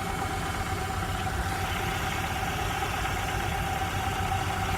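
A truck engine idles roughly, with a suspected spark plug wire or coil pack fault, giving a steady, close, loud mechanical drone with a faint uneven shake running through it and no voices.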